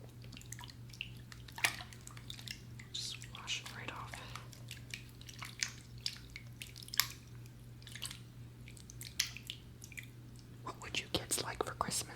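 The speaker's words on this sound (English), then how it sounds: "I'm going to rinse this off now in the bowl of water." A razor is rinsed in a bowl of water, giving soft, close splashes and scattered drips over a faint steady hum, with quiet whispering throughout.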